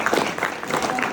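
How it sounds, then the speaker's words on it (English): An audience at a panel on content creators' finances gives the panelists a short burst of applause, moderately loud and close, with some crowd murmur mixed in. "give a quick round of applause for our panelists"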